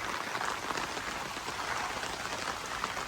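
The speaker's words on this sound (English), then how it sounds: "That rain cloud opened up." Steady rain falls on surfaces at a campsite in Great Smoky Mountains National Park, a dense, even hiss of drops with no voices.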